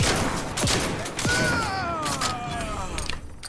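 Gunfire in The Outer Worlds 2, a few sharp shots early on followed by a rattling burst, with mechanical creaks and a groaning sweep over it, close and fairly loud.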